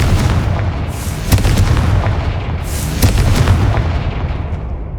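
Explosions from the Confringo blasting spell in Hogwarts Legacy, two loud booming bursts about two seconds apart, with crackling blasts rolling under a steady rumble.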